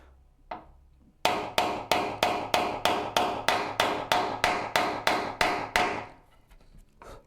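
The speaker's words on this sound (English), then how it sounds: "the stream is primarily nailing today" A hammer drives nails while building a Shaker Enfield cabinet: one lone strike, then about fifteen sharp, evenly spaced blows in a steady rhythm, loud and close, stopping abruptly.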